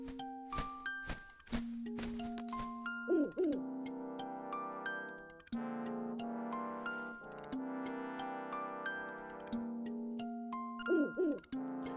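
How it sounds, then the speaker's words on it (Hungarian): The owl in the Nintendo Switch game Zelda: Link's Awakening makes chiptune-like hooting and cooing calls over stepped melodic game music, clear and steady, with no talking. "Ja, még lejön a bagoly."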